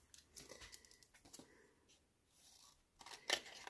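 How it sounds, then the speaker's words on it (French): Scissors make faint, quiet snips and rustles while cutting paper at a scrapbooking table, irregular and close, with soft handling noises between cuts. "Des ciseaux."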